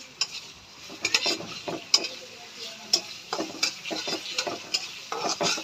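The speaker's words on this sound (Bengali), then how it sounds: "গাজরটা মোটামুটি ভাজা হয়ে গেলে এখন এর মধ্যে দিয়ে দিচ্ছি আমি কিছুটা মটরশুঁটি" Carrots stir-fry in a pan, with repeated sharp scrapes and taps of a utensil against the pan in an irregular rhythm over a soft, continuous sizzle, close and with no talking.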